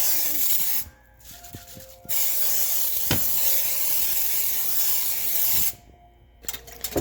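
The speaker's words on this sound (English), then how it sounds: "Gonna use some cooking spray to coat the dish." Cooking spray hisses out in two long, steady bursts as it coats a baking dish for sweet and sour chicken, with a short pause between them, close and loud.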